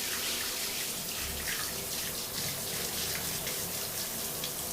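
A shower spray runs steadily over a pet monitor lizard, a continuous hissing rush of water splashing with no break, close and fairly loud.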